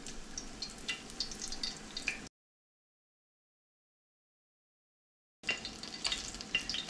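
Beer-battered whole smelt, gutted and headless with bones left in, frying in oil held around 340–350 degrees, giving a steady close crackling sizzle that cuts out completely for a few seconds before resuming.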